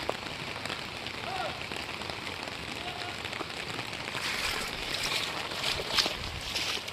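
Steady rain pours down over a fully flooded road in Assam, a constant hiss of water hitting surfaces, close and loud without a break.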